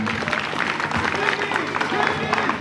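Audience applauding at a school cultural day at a lycée, a steady wash of clapping and crowd murmur filling the space at moderate loudness with no break.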